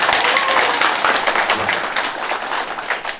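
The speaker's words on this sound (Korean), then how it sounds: "우리 지동 사업 추진을 위해서 혼신의 노력을 다한 위원장님께 큰 박수 한 번 더 부탁드리겠습니다." A crowd at a residents' meeting about a redevelopment project in Suwon claps in a short, dense burst of applause heard up close throughout.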